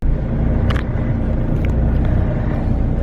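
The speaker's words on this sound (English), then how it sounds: "Looks like my bus is here." A bus pulling up at a stop on a trip to Nashville, a steady loud engine rumble and road noise filling the whole moment, close and continuous with faint higher squeaks over the drone.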